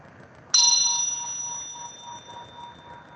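A single bell strike, sharp and loud, rings out with a clear metallic tone and decays slowly over a few seconds with a faint pulsing shimmer as it fades, no voices.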